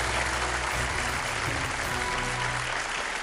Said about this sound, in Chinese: 让我们把掌声和舞台留给马老师